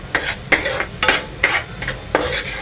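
Ginger-garlic paste fries in a pan for pav bhaji while a spoon stirs it in steady strokes, about five scraping passes over a continuous sizzle.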